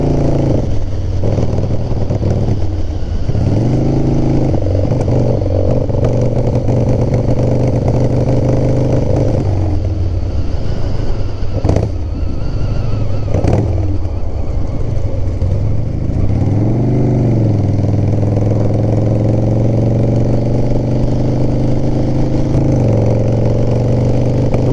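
A Harley-Davidson FXR motorcycle engine runs rough and strained under load, a loud continuous drone with uneven surges and dips in pitch as it labors, close and steady throughout.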